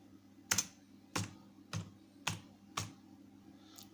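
Five distinct keystrokes on a computer keyboard, spaced about half a second apart, crisp and close over a low steady hum, with no voices.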